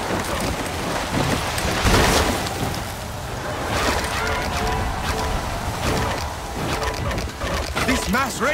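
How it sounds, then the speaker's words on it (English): Steady heavy rain hisses under a rolling thunderstorm in Riders Republic, with low rumbles swelling and fading throughout and a few tonal game effects near the end. "A storm. Just the way I like it."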